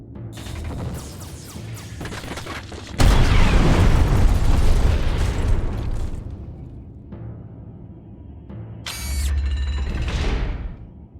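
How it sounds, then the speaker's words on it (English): Ship cannons blasting incoming asteroids in the Treasure Planet: Battle at Procyon game, loud booming blasts and crashing impacts with mechanical clanks, a big sustained burst in the middle and a sharp ringing strike near the end. "All gunners, engage and destroy incoming asteroids!"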